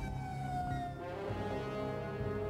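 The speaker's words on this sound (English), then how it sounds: "sirens blare." A siren wails continuously with steady rising and falling tones over a constant low rumble, loud and sustained throughout.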